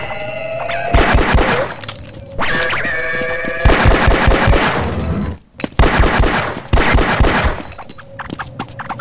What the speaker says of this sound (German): Habe ich schon immer so viel Munition verbraten in dem Spiel?